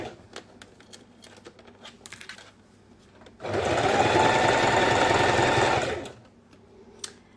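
Sewing machine running a steady straight stitch along a school pencil pouch, a continuous loud whirring burst of about two and a half seconds after light handling clicks, then stopping.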